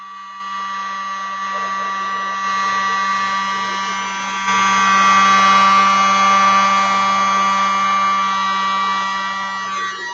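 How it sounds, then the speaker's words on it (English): Electric blower pushing white acrylic paint across colours in a Dutch pour painting, a loud steady whirring hum with a bright whine that swells a little as it runs continuously and close. "I'm going to gently blow the white as best I can up over the"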